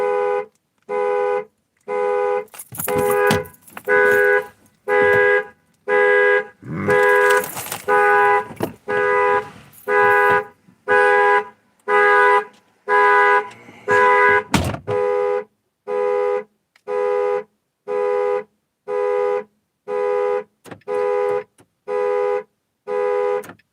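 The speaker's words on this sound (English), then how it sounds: "I just set off my own alarm." A car alarm blares in a steady repeating pattern of loud, regular pulsed tones, about twenty bursts with short gaps, with some brief rustling and handling noise mixed in partway through.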